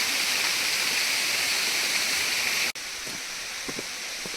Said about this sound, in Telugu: చాలా దగ్గరే, ఇక్కడే వాటర్ ఫాల్.